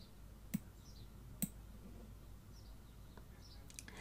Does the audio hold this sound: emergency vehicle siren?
no